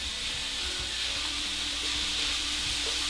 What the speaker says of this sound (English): Now we add in our pork. Make sure you spread out the pork so that it will be cooked.